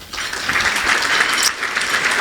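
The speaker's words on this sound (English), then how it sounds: "let's keep the applause to a minimum until we get them all up there" An audience at an Arizona state honors ceremony applauds in a dense, steady burst of clapping that fills the room for a couple of seconds.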